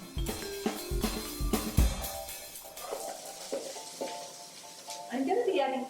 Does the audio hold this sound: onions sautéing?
yes